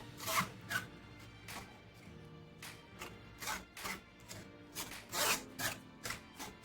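Tamarind pulp is pressed and scraped through a kitchen sieve for a sweet-sour tamarind and jaggery chutney, making soft rhythmic rasping strokes that are quiet and close.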